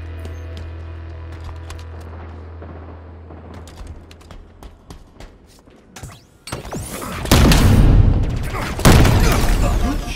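Gunfire and explosions in the video game Halo Infinite, starting with quieter scattered shots over a low hum, then building into loud, dense bursts of firing and blasts in the final seconds.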